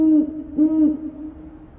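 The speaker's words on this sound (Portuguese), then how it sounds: "Veja só, é a coruja." Two low, mellow owl hoots, each a short sustained call, clear and fairly close, with a quiet pause between and after.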